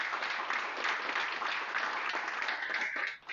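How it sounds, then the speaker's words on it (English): Audience applause fills a school board meeting, a steady wash of many hands clapping at even loudness for several seconds before tapering off sharply at the end. "so good to give her a round of applause"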